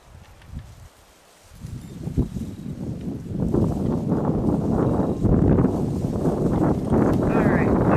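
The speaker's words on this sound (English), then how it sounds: "That wind's swirling around on us today" Gusty outdoor wind buffets a microphone at a shooting range, a low broadband rumble that builds and stays loud and steady after a quieter opening, with voices talking faintly underneath.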